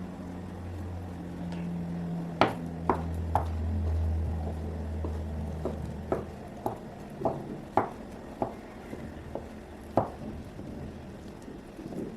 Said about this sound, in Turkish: Yine peynirimi de küçük küçük doğruyorum